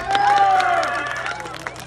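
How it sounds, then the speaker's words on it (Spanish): Children gathered for a clown show in San José Sabinillo, Oaxaca, burst into applause and shouting. The cheering is loud at first, and the clapping and chatter fade somewhat over the short stretch. "el aplauso"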